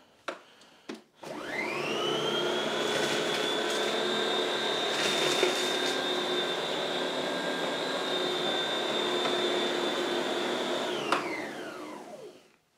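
A Lindhaus vacuum cleaner whines loudly and steadily on a hard floor for about ten seconds, with faint rattles of breakfast cereal being sucked up, then spins down to silence.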